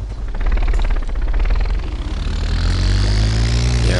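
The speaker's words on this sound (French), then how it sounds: "Il y a un hélicoptère." A helicopter hovering in place in the video game DayZ, a steady loud rotor drone with rising whine across the whole stretch, heard alone with no talking.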